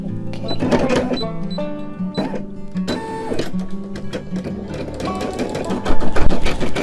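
An automatic embroidery sewing machine stitches a design onto fabric on its own, a steady, loud, fast mechanical chatter of needle strokes with rhythmic clicks and whirs, growing busier near the end.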